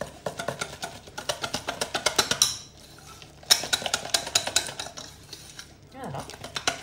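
A utensil stirs flour into swiss roll cake batter in a bowl, making rhythmic, close clinking and scraping strokes in two bursts separated by a short pause, with a brief softer swirl near the end.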